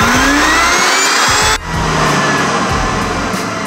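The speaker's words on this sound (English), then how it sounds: "And now you can activate your motor with the switch." A 24V DC boat lift blower motor runs with a steady, loud hum, its pitch sliding upward as it spins up, then cuts out abruptly and restarts into a continuous drone for the rest of the moment.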